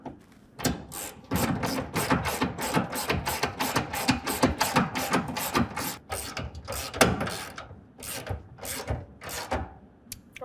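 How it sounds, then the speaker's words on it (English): A ratchet with a 13 millimeter socket tightens rack bolts on a 2022 Toyota Tundra truck bed, giving a close, fast, rhythmic run of clicks that lasts several seconds with brief pauses. "we're just going to go ahead and tighten it all down using our 13 millimeter"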